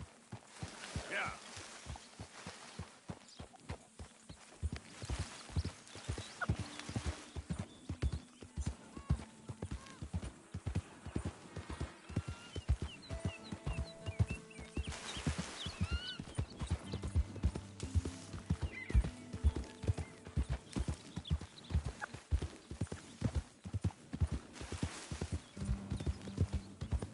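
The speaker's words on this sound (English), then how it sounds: "Computerized horses." Steady clip-clopping of a computer-generated horse's hooves in the Western video game Red Dead Redemption 2, a regular galloping rhythm running throughout with occasional whinnies and spoken voices over it.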